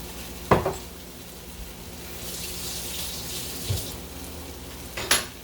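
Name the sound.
food cooking in a pan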